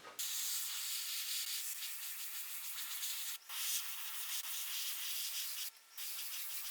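A paint coat is sprayed onto a concrete mould from an airbrush running at about 30 psi. It makes a steady, close, loud hiss that holds for several seconds and breaks off briefly twice before resuming.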